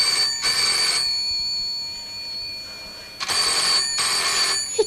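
Old British telephone bell ringing in a domestic setting on a 1980 Coronation Street scene, two loud bursts of ringing separated by a pause, no talking.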